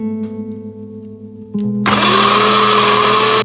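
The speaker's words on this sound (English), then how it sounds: "Then next I'm going to grind garlic and ginger together to make paste." An electric grinder runs loud and close, grinding garlic and ginger into a paste for Bengali-style fish curry; it starts after a brief low hum and whirs steadily for about two seconds before cutting off.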